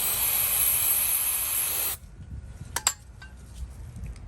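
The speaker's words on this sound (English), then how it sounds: "let's spray some cleaner" Cleaner sprays onto a dirty ratchet in a loud, steady hiss lasting about two seconds, then cuts off, followed by a few faint metallic clinks close by.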